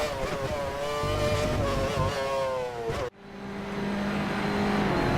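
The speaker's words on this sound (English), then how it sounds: "So we're on board here with the Formula Abarth around Assetto Corsa" Formula Abarth single-seater race car engine in Assetto Corsa, heard on board: a loud, continuous high-revving tone climbing through the gears, briefly cutting out with a sharp break before building again.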